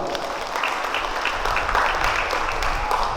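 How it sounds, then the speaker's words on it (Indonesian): An audience claps throughout a brief stretch at the launch event of an adolescent sexual and reproductive health education service, the applause steady and fairly loud. "Tepuk tangan semuanya."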